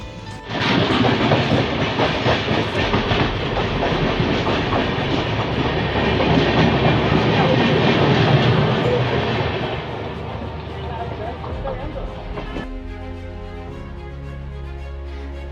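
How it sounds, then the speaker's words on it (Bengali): A night train from Shalimar to Puri rolls along with loud rumbling and rhythmic clickety-clack of wheels on rails, easing off after a while into a quieter hum and distant rattling. "রাতে ট্রেন জার্নি আপনাদের কেমন লাগে জানি না, কিন্তু আমার বেশ ভালোই লাগে"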